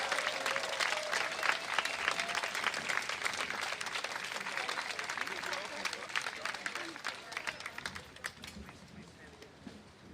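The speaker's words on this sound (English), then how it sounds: "So please give them a huge round of applause." Applause for a family from the Oneida Nation at an outdoor rally against racism in Milwaukee, a crowd clapping loudly and steadily, then gradually fading, with some voices mixed in.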